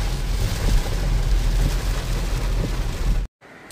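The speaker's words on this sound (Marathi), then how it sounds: "खतरनाक पाऊस लागला मित्रांनो." Heavy rain drums steadily around a moving vehicle on a road, a dense, loud wash of noise that cuts off abruptly near the end.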